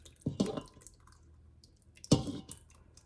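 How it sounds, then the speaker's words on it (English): Salsa poured from a jar over chicken in a slow cooker, two soft wet glugging splats separated by a pause, close and fairly quiet. "now you're just gonna pour this right over the top"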